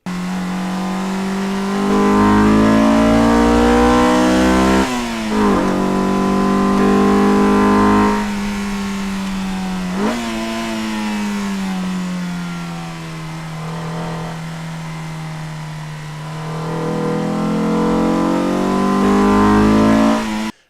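A Honda S2000 sports car engine revs up and settles again several times, each climb of pitch sharp and loud, with a steady mid-pitched drone between the bursts and no one talking.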